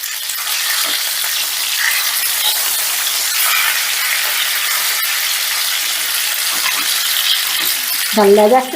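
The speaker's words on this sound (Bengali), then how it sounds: "এবার একটু সময় নিয়ে এটাকে উল্টে পাল্টে বেশ লাল লাল করে ভেজে নিচ্ছি" Hot oil sizzles and crackles steadily as a rohu fish tail fries, loud and close, with a brief clatter near the end.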